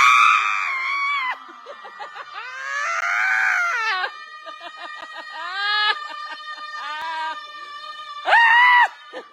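Several people screaming in long, loud bursts as an act of emotional release, some cries wavering and strained, with brief pauses between the wails and a final sharp shriek.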